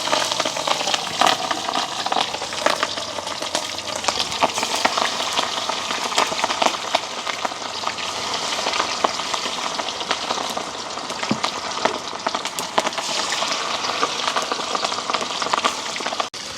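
Steady, dense crackling and sizzling of food deep-frying in boiling oil, loud and close, continuing without a break.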